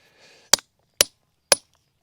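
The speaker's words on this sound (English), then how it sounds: "Hence having to chisel all this out." A hand chisel strikes stone, chipping out ground for château gate posts on a French farm: four sharp, evenly spaced metallic hits about half a second apart, close and alone after a faint brief sound.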